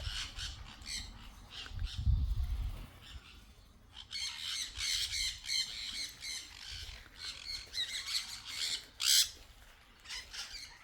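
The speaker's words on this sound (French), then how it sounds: "Donc les perruches de Patagonie." Patagonian conures at a tropical park give repeated harsh squawks in irregular bursts, loud and close, with several birds overlapping and a low rumble beneath.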